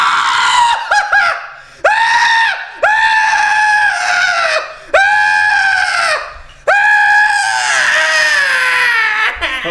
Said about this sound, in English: keep screaming. Keep screaming.